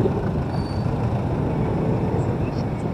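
A steady low rumble of an LRT light rail train rolling past, dense and continuous, with faint wheel squeal above and voices in the background.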